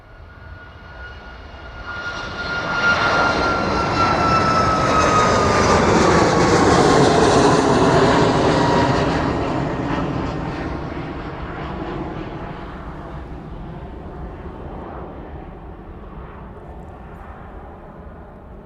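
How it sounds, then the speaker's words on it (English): A Vulcan Air light aircraft takes off and climbs away from the airfield at East Midlands Airport, its engine droning up to a loud pass near the middle and then fading steadily into the distance. "Vulcan Air just north of the airfield now."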